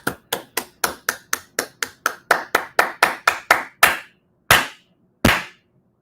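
A single person claps slowly and sarcastically, starting with light quick claps that grow louder, then a few final widely spaced hard claps, close and alone.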